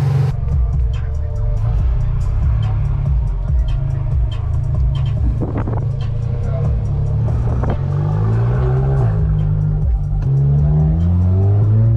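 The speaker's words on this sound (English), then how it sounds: "Let's take the big turbo GTI for an actual spin." A Volkswagen GTI with a big IS38 turbo on a 93-octane tune accelerates in a steady, loud engine drone that climbs in pitch through several gears, with someone speaking over it.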